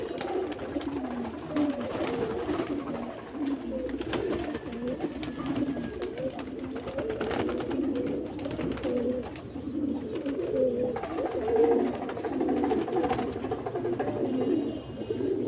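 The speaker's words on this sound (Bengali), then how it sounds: "পায়রা বেরোচ্ছে তোমার দেখতেই পাচ্ছ ঘর দিয়ে" Steady, overlapping cooing of many pigeons, continuous and close, with soft rustling and faint clatter in the background.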